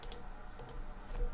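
Computer keyboard typing a directory path on Ubuntu, a quick run of soft key clicks at close range over faint background hiss.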